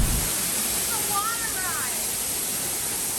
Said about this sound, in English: So the waterfall is in the very back of the pavilion.